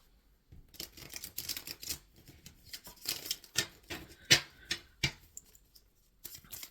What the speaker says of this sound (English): I am shuffling for the Virgo collective spirit.